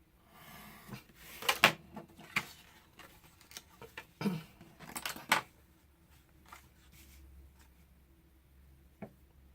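Paper for a baby girl scrapbook mini album is cut, with a cluster of crisp snips and handling clatter early on, then quieter scattered clicks and a soft thump near the end.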